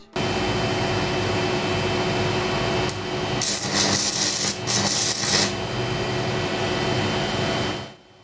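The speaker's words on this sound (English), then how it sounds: "Now all that's left is to physically test it and weld something." A repaired RESANTA SAI160 welding inverter test-welds in a garage, giving a steady, loud electrical buzzing hiss with a brighter crackling burst partway through before cutting off at the end.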